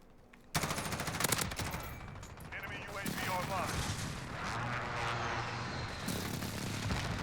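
Airstrike explosions in the video game Modern Warfare, a sudden loud burst of booming blasts and rapid crackling gunfire that rumbles on continuously, with a voice talking over it.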